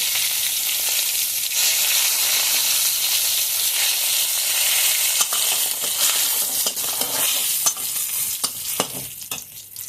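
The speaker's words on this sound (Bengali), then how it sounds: "কড়াইতে আরও কিছু পরিমাণ তেল দিয়ে শুকনো মরিচ ও তেজপাতা ফোড়ন দিচ্ছি" Dried red chillies and bay leaves tempering in hot oil in a karahi, giving a steady, close, dense sizzle with scattered sharp crackles and pops throughout.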